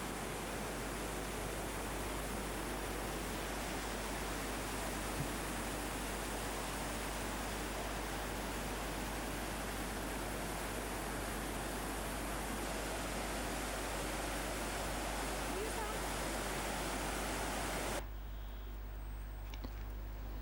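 Foaming river rushing through a valley toward Junkedalen, a steady loud broadband roar of whitewater that runs unbroken for most of the stretch before cutting off abruptly near the end.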